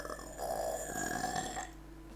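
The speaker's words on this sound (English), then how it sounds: "I was burping." A single long, throaty burp swelling and fading over about a second and a half, close and fairly loud, alone without talk.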